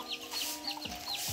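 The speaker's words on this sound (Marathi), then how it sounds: "हे बघा ही कोंबडी बघा" A hen clucks in short, soft bursts at a Konkan village farmyard in Kudal, Digas, with thin high chirps scattered across the brief moment.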